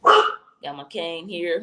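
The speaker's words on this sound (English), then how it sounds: "That's my dog." A dog barks loudly once nearby at the start, followed by someone speaking briefly.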